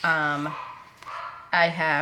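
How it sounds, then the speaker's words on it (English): A pet dog barking indoors, heard as a short, bright bark between sustained vocal sounds, fairly close and loud. "you can hear my dog"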